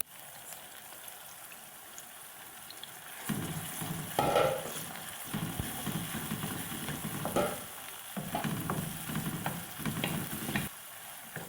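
Potatoes and spinach fry in a pan for aloo palak, a steady sizzle broken by bursts of stirring and scraping with a wet, bubbling edge, heard up close without voices.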